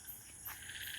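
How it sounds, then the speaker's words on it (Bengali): Frogs croak in a field on a monsoon night in rural Bangladesh, a faint, distant chorus with a short rise partway through. "মাঠে ব্যাঙ ডাকছে"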